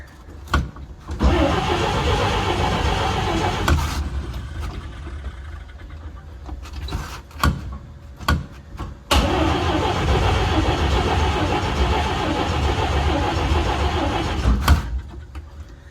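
A 1950 Chevy engine is cranked by push button and catches, running loudly and roughly near the microphone, cutting out briefly amid clicks and knocks before it restarts and runs steadily again.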